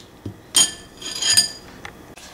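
Butter and chocolate mixed in a bowl for chocolate lava cake: a few clinking scrapes of a utensil against the bowl in short irregular bursts, with quieter pauses between strokes.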